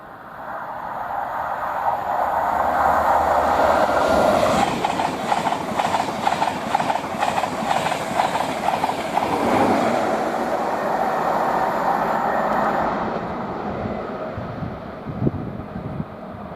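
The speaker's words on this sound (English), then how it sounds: "that is obviously a 91-110 working from Leeds to London King's Cross" Class 91 electric train number 91110 on the East Coast Main Line at Potters Bar, running from Leeds to London King's Cross. It roars past loud and close with rhythmic wheel clatter and wind buffeting, then fades.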